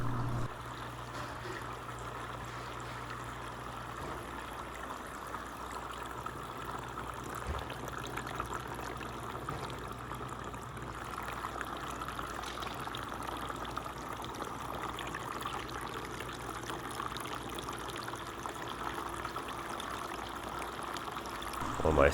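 Water from a 5-gallon bucket pours steadily into stacked wall-mounted growing trays, filling each and overflowing down into the next, a continuous near trickling and splashing stream with no talk.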